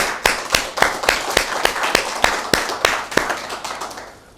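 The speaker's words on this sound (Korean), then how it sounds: "하나님께 영광의 박수 올려드리도록 하겠습니다" A church congregation claps together in a quick, steady rhythm, each clap crisp and close, keeping up for several seconds before tapering off.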